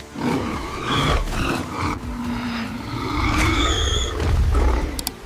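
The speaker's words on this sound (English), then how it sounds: "A furious roar shatters the forest." A furious animal roar tears through a forest as a wild boar of nearly 400 pounds is attacked, loud rough bellowing and growling with harsh rasping bursts that sustain throughout, close and dominating with no talk.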